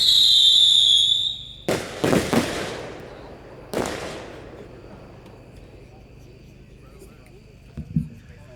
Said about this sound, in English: Number 2 is a Vulcan slice, packed 6-1,